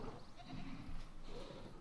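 Goats bleating around a goat feeder in the park-building game Jurassic World Evolution, a few overlapping bleats over a steady ambient bed of game sound.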